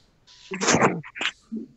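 A single sharp sneeze during a live wrestling TV reaction chat, a burst of breathy noise followed by a short second catch and a faint trailing murmur.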